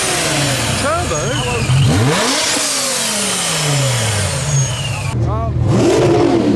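A BMW M5 engine revs loudly at a car show, its pitch sweeping up and down in repeated blips over idle. Crowd noise and voices sit underneath.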